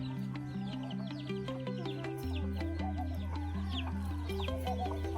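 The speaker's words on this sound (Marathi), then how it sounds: "खासाठी झगडा करू राहिल्या कोंबड्या" Several free-range desi chickens fight over feed on a poultry farm in Nagpur, clucking and squawking in agitated bursts, close by, over a steady droning musical tone.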